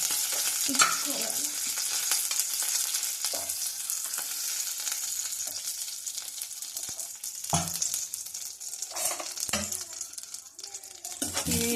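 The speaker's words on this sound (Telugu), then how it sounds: "టూ స్పూన్ నెయ్యి వేసుకొని దాంట్లో జీడిపప్పు వేసుకొని" Cashew nuts frying in ghee in a pan, a steady bright sizzle with occasional stirring scrapes and clinks from a spoon, close and continuous with no talking.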